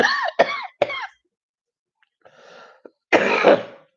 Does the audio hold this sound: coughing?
yes